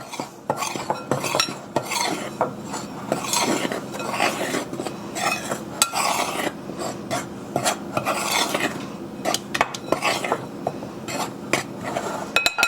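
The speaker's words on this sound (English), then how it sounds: "Mix that up just a little bit." Pumpkin bread batter is stirred in a bowl with a utensil, giving a steady scraping, rubbing and clinking against the bowl sides for the whole stretch, close and fairly loud, with no talking.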